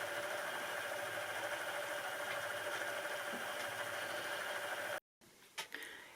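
An EEW 6.0 electric spinning wheel spinning singles from a fibre batt, a faint steady motor whir with a mechanical hum, stopping abruptly near the end, followed by a few small clicks and handling noises.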